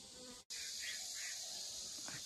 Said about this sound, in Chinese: 这蜜蜂正在这采花蜜